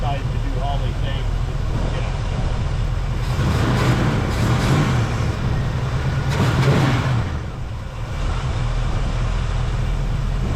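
A 1976 Chevy Malibu's 350 V8, bored 30 over and fitted with a Holley carburetor, runs with a steady, close rumble that swells in the middle, while voices talk over it.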